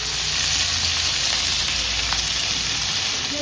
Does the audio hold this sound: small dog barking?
no